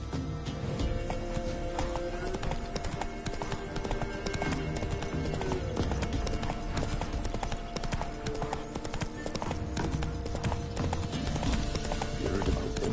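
A horse gallops in The Witcher 3 video game, its hooves beating in a fast, steady clip-clop rhythm throughout, with an occasional neigh over a layer of game sound.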